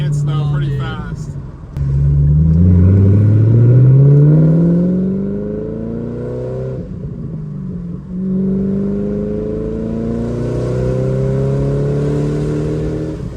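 Supercharged Shelby GT500 engine revving hard, its pitch sweeping upward through repeated pulls with a steady rumble and supercharger whine, loud and close, broken by brief shift dips; faint voices underneath.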